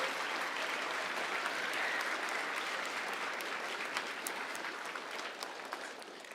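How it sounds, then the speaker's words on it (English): A school audience at a Veterans Day celebration gives its 5th and 6th grade speakers a sustained round of applause, a dense, even wash of many hands clapping that continues without pause and tapers slightly at the end. "I think they all deserve a round of applause"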